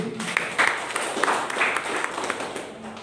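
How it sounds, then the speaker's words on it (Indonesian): Moderate, fairly thin applause from a church congregation, a few seconds of mixed clapping with some voices under it, neither very loud nor close. "berikan tepuk tangan buat Tuhan Yesus"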